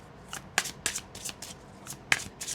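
Tarot cards being shuffled by hand, a series of quick crisp riffling bursts in an irregular rhythm, close and clear with nothing else behind them.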